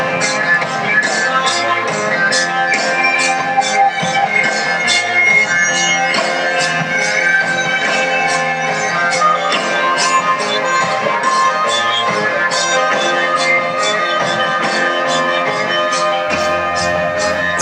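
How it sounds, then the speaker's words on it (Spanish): A blues song with harmonica plays as a dense, loud full-band mix with a steady driving beat of sharp rhythmic hits throughout, no voices talking over it. "Por eso suena así, con armónica incluida."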